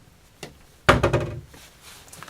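A cabinet door swings shut on small self-closing European-style concealed hinges, landing with one solid thump and a short rattling settle after a faint earlier tap, alone with no talking.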